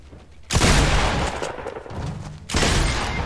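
Gunfire in the Fortnite video game, two loud close bursts of rapid shots separated by a quieter gap.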